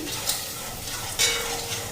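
Panch phoron whole spices tempering in hot oil in a kadai for a dalia khichdi, with soft crackling sizzle and a couple of brief spoon scrapes against the pan.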